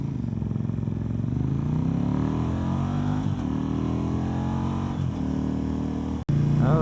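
KTM RC8 sport motorcycle engine pulling hard in second gear, a loud, close, continuous roar that climbs steadily in pitch, dips briefly as the throttle comes off, then surges again.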